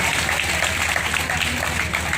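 Audience applause fills a school silver jubilee celebration at a Navodaya Vidyalaya, a steady, dense clapping that holds evenly through the moment without a break.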